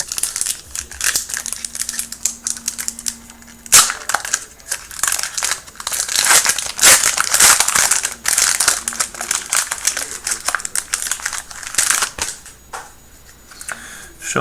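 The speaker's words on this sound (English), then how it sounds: "Open the next pack." A Theros Beyond Death card pack being torn open, with loud, close crinkling and crumpling of foil wrapper and shuffled cards in a steady stream of sharp rustles.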